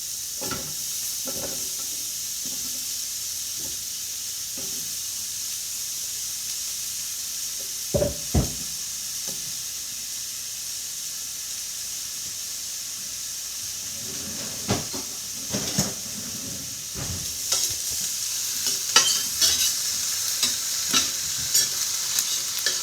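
Onions fry in oil in a pan with a steady, close sizzle and hiss, while occasional spatula scrapes and knocks mark the stirring.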